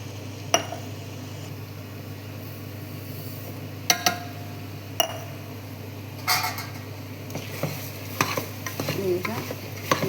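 Rice is stirred into fried masala in a pan, a low steady sizzle broken by several sharp clinks and scrapes of the spoon against the pan, close and moderately loud.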